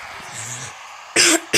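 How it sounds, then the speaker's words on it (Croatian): A man with a cold coughs twice, one sharp burst followed by a shorter one, loud and close, after a few moments of quieter background sound. "ali sam se malo nahladio, kašalj"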